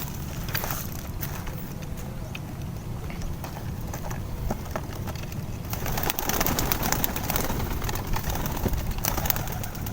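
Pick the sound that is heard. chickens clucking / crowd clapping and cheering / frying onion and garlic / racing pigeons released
racing pigeons released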